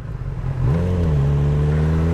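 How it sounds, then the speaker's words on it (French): Honda CB1000R Black Edition roadster engine climbing past 6000 rpm, a sharp rise in pitch into a loud sustained rev, close and steady with no talking. "dès que tu commences à dépasser un peu les 6000 tours et que tu commences un peu à monter, là tu sens que ça commence à faire un peu plus de bruit"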